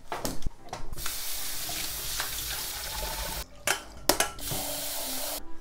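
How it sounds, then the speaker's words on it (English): Cold tap water pours steadily into a sink as homemade udon noodles are rinsed, a close hissing, splashing rush briefly broken by short pauses and handling noises. "Then we're going to wash this in cold water."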